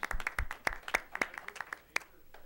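Scattered audience clapping for students at a community volunteers' graduation ceremony, with individual sharp claps rather than a dense roar and a faint voice underneath.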